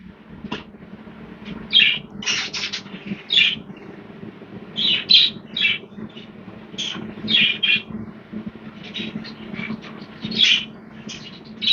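Jumbo budgerigars chirp and tweet in bright, repeated bursts, with overlapping calls over a steady low background hum and no talking.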